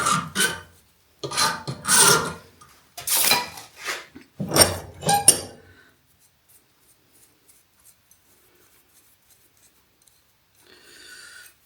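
Hand file rasping against part of an old vacuum cleaner in a workshop, several short bursts of scraping strokes close by, then a long quiet stretch with faint clinks and a brief rustle at the end.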